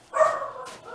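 A single short dog bark in the video game Puzzle Agent, close and clear, with a brief yelping tail after it.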